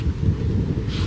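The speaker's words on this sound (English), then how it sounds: "it's quite windy here today" Steady wind buffets the microphone outdoors at a pony makeover, a loud low rumble that continues for the whole moment with no talking.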